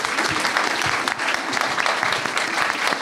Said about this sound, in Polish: Wielkie brawa proszę dla naszego dziennika.